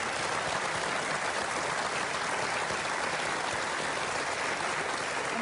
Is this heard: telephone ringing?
no